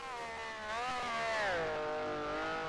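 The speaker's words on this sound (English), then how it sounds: "Because that engine is not sounding very good." A Honda race car engine in a sim racing game sounds a sustained, rising and falling whine as it revs, loud and steady, with no voices.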